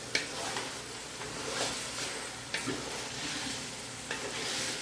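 Country chicken pieces fry in a little oil for an Andhra-style curry, a soft steady sizzle close by with a few clinks as the pan is stirred.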